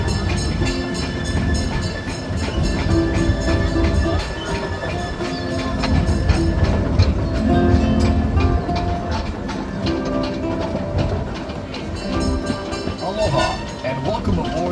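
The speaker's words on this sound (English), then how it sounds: "This 2-mile, 22-minute train ride will take you through a working plantation of pineapple and other crops" Tour train rolling through a working pineapple plantation, a steady rumble of railcars running continuously at close range, with a voice talking over the ride throughout.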